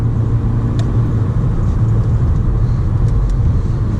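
Steady low engine rumble from a 2012 Volkswagen Golf GTI 35 Edition, an even drone heard from inside the car with a couple of faint clicks.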